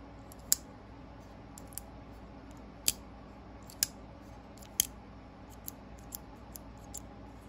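Hogue Deka manual folding pocket knife with blue lava G10 scales and CPM 20CV blade, its Able lock giving sharp, isolated clicks at irregular intervals, close and crisp against a quiet background.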